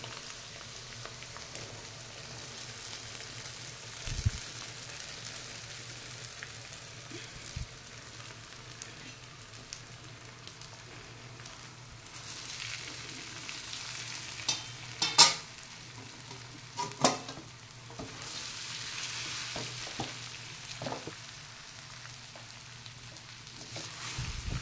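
Sabudana stirred and fried in a pan gives a soft steady sizzle broken by scraping stir strokes and a few louder clattering knocks partway through, heard close.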